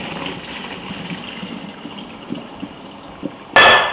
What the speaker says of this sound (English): So the pasta's done now, so we're just going to pour it into some of these.